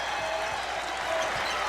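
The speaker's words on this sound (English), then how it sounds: "the Louisville fans stand and cheer this team from the Big East" Louisville basketball fans on their feet cheering in a packed arena during a game against Tennessee, a steady broad roar of crowd noise with no distinct peaks.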